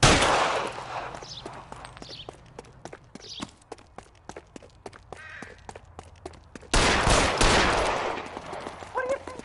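Gunfire in the video game L.A. Noire on PS5: a rapid string of sharp, loud shots at irregular spacing, then a denser burst of noise toward the end.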